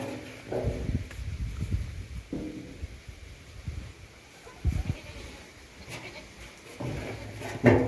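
A mother goat on a Maharashtra farm, recently having given birth to three kids, bleats in several loud, separate calls spread over the stretch, with shuffling and faint farmyard noise between them.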